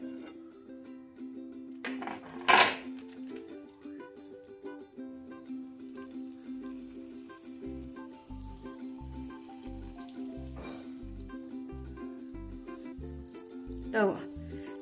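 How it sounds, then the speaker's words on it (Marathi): Khoya jalebi batter sizzles in hot oil in a kadhai, a faint, low frying hiss under a steady hum, with a couple of brief bursts and a run of soft rhythmic thumps. "मी तेल आधीच ठेवलं गरम करायला, टाकून बघते थोडं"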